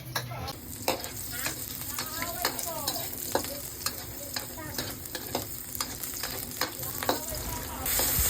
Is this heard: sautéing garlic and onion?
yes